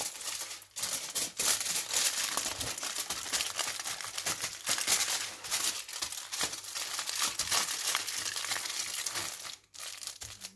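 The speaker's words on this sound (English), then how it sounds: "I'm just gonna wrap it in the foil so I can cut it properly" A toasted chicken Caesar wrap being wrapped tightly in aluminium foil: continuous close crinkling and crumpling of foil, loud and busy with brief pauses, no talking.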